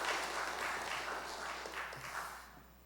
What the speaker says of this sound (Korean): 예배드리러 와서 박수 받아보기도 처음 같습니다.